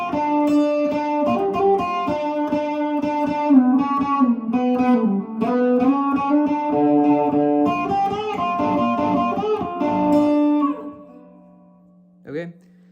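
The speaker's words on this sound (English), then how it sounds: "So altogether, the solo sounds like this." Electric guitar plays a guitar solo, a continuous run of bent and sustained lead notes that fades out toward the end, followed by a short final pluck.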